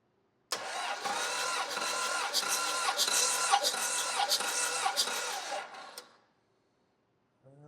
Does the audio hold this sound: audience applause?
no